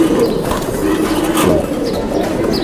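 Pigeons of fancy breeds kept for sale, including Bombay and satin types, coo steadily in a loft, a low continuous cooing with faint chirps and occasional wing rustle, close and fairly loud with no talk.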